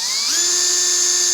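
A power drill spins up with a bit into wood, a high steady whine that rises in pitch briefly and then holds constant before cutting off abruptly.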